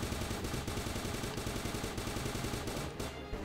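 Gunfire from a gun in the sci-fi sandbox game Starbound: a steady, rapid run of shots pulses evenly at moderate loudness across the whole moment and fades slightly near the end.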